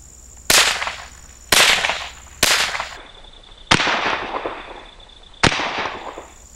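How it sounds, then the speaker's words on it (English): A gene gun firing genetic material into tissue in a chamber, five sharp loud bangs about a second apart, each followed by a hissing decay. "A gene gun is used to insert the material from one foreign species into another recipient species"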